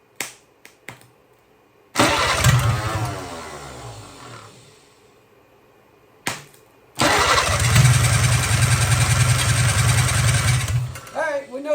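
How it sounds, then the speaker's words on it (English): A 1957 Hercules four-cylinder power engine cranks over on the starter in two long bursts, loud and close, the first about five seconds and the second about five seconds more, separated by brief clicks. "We know she'll run. She's cranking over good."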